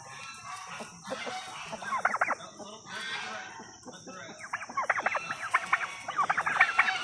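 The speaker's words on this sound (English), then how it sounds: "These guineas are so funny looking" Guinea fowl call in rapid, harsh chattering bursts, several birds nearby, rising and falling in uneven clusters with faint background noise.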